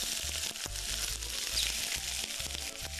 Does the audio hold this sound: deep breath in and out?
no